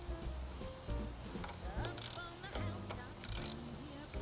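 Faint metallic ratcheting clicks from a wrench tightening the windshield mount bolts on a Honda CT125 Hunter Cub, a few short bursts over soft background hiss, with no talking.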